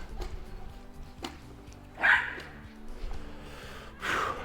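A dog barks in two short bursts outdoors, fairly close and loud, over a low steady background hum.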